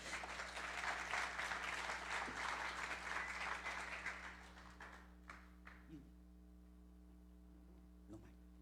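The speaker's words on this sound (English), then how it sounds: "Let's give them a round of applause." Applause from an audience after a performance of spirituals, dense clapping for about four seconds that fades out, leaving a quiet room with a few faint sounds.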